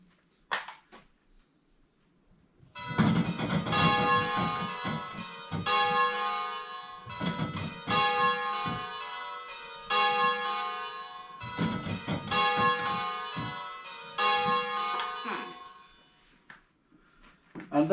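Six church bells rung in sequence on a bell-ringing simulator at a slower practice speed, clear metallic strikes in repeated rounds separated by short gaps, close and moderately loud with no talk.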